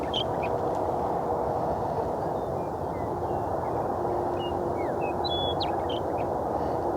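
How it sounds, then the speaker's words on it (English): Bird calling on a spring morning outdoors, several short clear chirps and whistles scattered over steady broadband background noise, moderately distant. "You hear that bird? That is so gorgeous."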